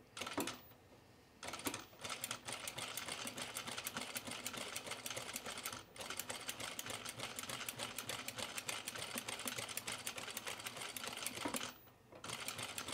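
A sewing machine fitted with a buttonhole attachment stitches one layer of canvas on jeans. It runs slowly with a steady rapid clatter and pauses briefly twice, close by and quiet, with no speech.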